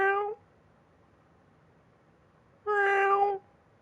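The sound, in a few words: cat meowing, from video game Alan Wake II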